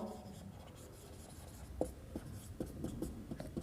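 A pen scratches across paper as a commerce teacher writes out an account entry in class, soft intermittent strokes and taps, quiet and close.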